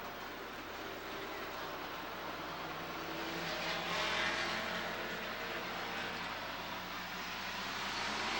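A field of race cars circles the track at Rockford Speedway, a broad sustained engine roar swelling slightly as they pass, with faint voices mixed underneath.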